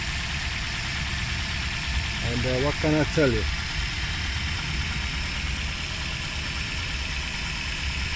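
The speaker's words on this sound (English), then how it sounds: "This is a very clean 4-cylinder engine. As you see, it's running very smoothly." A clean four-cylinder car engine idles smoothly with a steady, even hum throughout, and someone speaks briefly over it midway.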